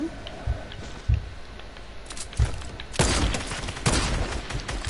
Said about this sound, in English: the sentries are shooting me